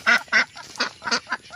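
Several ducks quack at a pond in a village, five or six nasal calls in an uneven series, fairly close and clear, with no talking over them.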